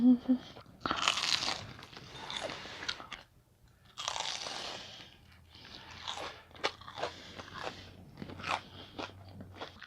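Crispy fried shrimp tempura being bitten and chewed up close, with loud crunchy bites followed by rhythmic wet chewing and crackling, and brief pauses between mouthfuls.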